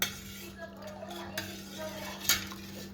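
A spoon stirs ground cardamom into gulab jamun sugar syrup with saffron in a pot, making faint scraping and clinking with a few sharper metal ticks against a quiet background.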